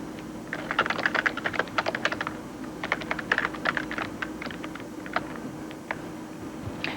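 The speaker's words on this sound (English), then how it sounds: "I can type the text of the message that I want to post." Typing on a computer keyboard, heard alone in bursts of quick clacking keystrokes with short pauses between them, fairly close and moderately loud.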